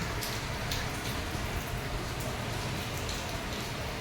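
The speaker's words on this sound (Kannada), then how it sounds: "ತುಂಬ ಮಳೆ ಬರ್ತಾ ಇದೆ" Dense, steady hiss of heavy rain falling on surfaces, constant throughout without pauses or voices.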